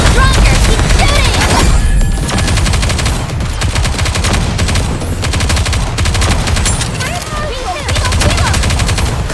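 Loud, relentless gunfire in the video game NIKKE: Goddess of Victory, with dense machine-gun bursts and sustained fusillades layered over pounding battle music and occasional explosive booms, while in-game voices call out during the fight.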